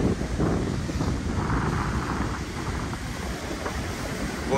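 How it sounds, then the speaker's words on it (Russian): Black Sea waves surge and break in strong wind, a continuous rushing roar of surf mixed with heavy wind buffeting the microphone, close and loud throughout, with no one speaking. "Вот это тут волна уже пошла."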